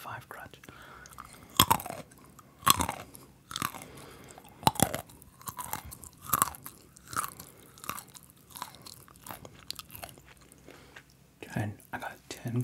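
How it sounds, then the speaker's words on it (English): Crunchy nuts are chewed close to the microphone in repeated sharp crunching bursts at a steady, unhurried chewing rhythm, with soft mouth sounds between bites. "And this is one of my favorite crunchy ones."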